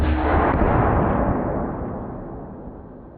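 A can cannon fires at a pumpkin, one loud booming blast that rolls off into a long, slowly fading rumble, with no voices.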